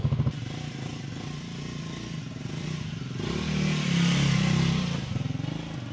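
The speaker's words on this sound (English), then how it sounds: "this Scrambler does sound nice with them twin pipes" A Triumph Scrambler 400X motorcycle with twin exhaust pipes runs close by with a steady, throbbing rumble that swells briefly louder midway before settling back.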